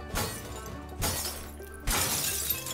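Glass shatters in three loud crashes about a second apart as a shop is smashed up in the Mafia III video game, each burst sharp and close with a ringing tail.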